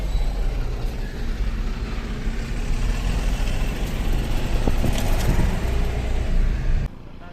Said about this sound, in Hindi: गाड़ी आ गई उधर से।